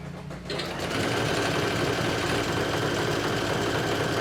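Sewing machine stitching a swimsuit's nude lining with thread, starting after a brief pause and then running in a steady, fast, continuous mechanical whir close to the mic.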